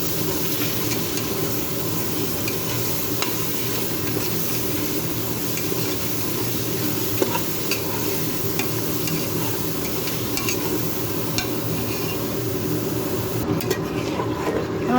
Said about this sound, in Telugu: తర్వాత నెక్స్ట్ 1 కప్పు పెరుగు వేస్తున్నాను. అవన్నీ వేసి ఒకసారి కలుపుతాను.